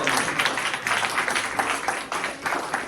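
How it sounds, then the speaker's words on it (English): Steady applause from a crowd at Fresno State, a dense patter of clapping hands holding at an even level throughout. "Can we get a round of applause?"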